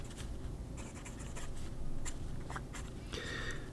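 A fine-nib fountain pen scratches across paper in short, light strokes, near and fairly quiet over a low steady hum.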